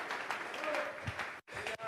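Congregation clapping in praise to God during a Spanish-language church service, a brief burst of applause mixed with voices, cut by a short silence near the end.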